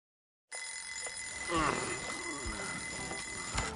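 An alarm clock rings in the video game Lost Judgment, a steady electronic ringing that sets in abruptly and runs throughout, loud and close, with a few other game sounds layered under it.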